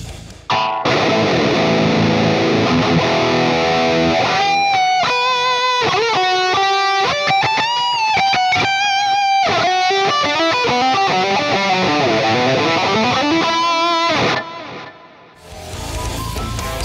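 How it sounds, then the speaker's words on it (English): An electric guitar plays a screaming lead solo through a noise gate, overdrives, a heavy distortion amp head, delay and reverb. Loud sustained bent notes and fast runs fill the whole passage alone. "here's my solo sound and here's the effect chain. So we got a noise gate, some overdrives, a heavy distortion amp head,"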